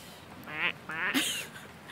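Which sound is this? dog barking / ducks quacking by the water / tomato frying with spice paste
ducks quacking by the water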